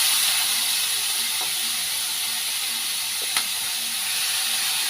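Marinated chicken for chicken chachchari sizzles in a pan, a loud, steady frying hiss that holds constant throughout, with a couple of faint clinks and no talking.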